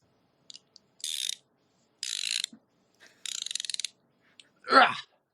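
Short bursts of a ratchet clicking as parts are tightened at a speedway, three separate rapid runs of clicks with pauses between, fairly close, followed by a brief breathy sound.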